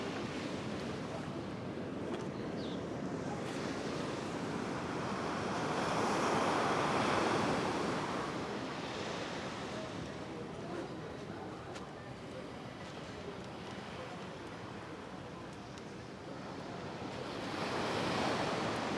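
Ocean surf rolls in along the Puerto Vallarta Malecon, waves swelling and breaking in slow surges over a constant wash, with light wind noise on the microphone; moderately distant and fairly quiet.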